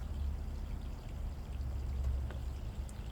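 Molten aluminum pours from an extremely full crucible into the basin of a sand mold, giving a steady, continuous low rushing flow that stays unbroken throughout at moderate level.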